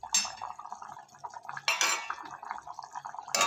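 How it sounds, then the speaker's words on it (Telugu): A metal lid is set back onto a pot of simmering chicken curry, with sharp clanks and clinks from the cookware at close range and a quieter rattle between them. "మళ్ళీ మూత పెడుతున్నానండి"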